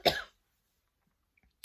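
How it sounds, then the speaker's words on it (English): One sharp, close cough bursts out, followed by near silence and a faint rustle at the end. "Yes, I have a cough."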